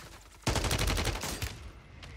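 A rapid burst of gunfire from the Warzone shooter game erupts after a short quiet stretch, a dense run of sharp reports lasting about a second, then tailing off into a few scattered shots.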